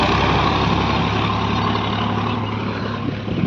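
A tractor hauling a load of bricks runs nearby in a rural Uttarakhand village, with a loud, steady low diesel rumble and an idling engine note that holds through the whole stretch.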